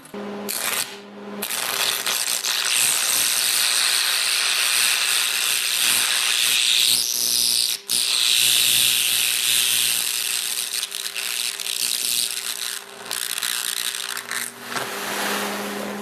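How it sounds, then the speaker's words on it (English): A carbon arc welder, turned up to 135, burns through a small metal plate with a steady, loud crackling hiss that runs almost unbroken, apart from a brief dip partway through. "I'm going to try and burn a hole right through this small metal plate here"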